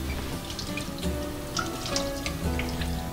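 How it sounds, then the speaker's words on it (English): Cold tap water runs steadily over brined pork chops in a sink, a constant close splashing hiss with light patters and drips shifting as the meat is turned. "let's give them a rinse with some cold water"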